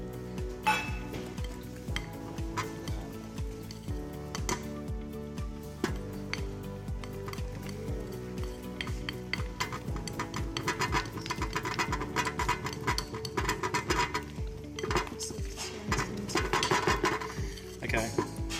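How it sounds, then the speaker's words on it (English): Flour being mixed into a Dutch apple cake batter in a bowl, with repeated clinks and scraping of a utensil against the bowl under steady background music, with a person talking intermittently. "Mix the rest of my flour."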